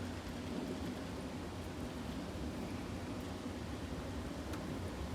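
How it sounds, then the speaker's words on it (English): Steady light rain begins to fall, hissing softly and evenly, a faint wash of drops with no voices and a low rumble in the background, with light wind. "Currently starting to rain here."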